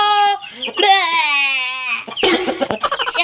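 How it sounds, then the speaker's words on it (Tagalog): Black shamo chickens kept alongside pigeons, with a drawn-out rooster-like crow followed by rapid clucking and squawks, loud and close, with a person's voice mixed in among the bird calls. "Mga manok at kalapate."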